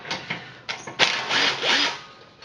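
A power tool works a bolt loose on a John Deere X748 in a few short whirring bursts followed by a longer sustained run; close and fairly loud, with no talking.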